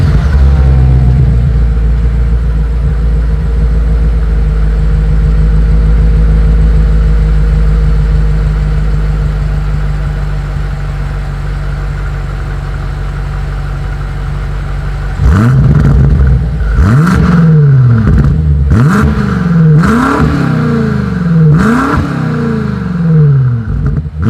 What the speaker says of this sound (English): Here is that 2020 BMW M8 exhaust